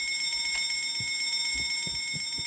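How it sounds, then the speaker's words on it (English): A fire alarm in a Backrooms video game rings with steady, piercing high tones, with soft thuds and footsteps beneath. "Oh, there's a fire alarm."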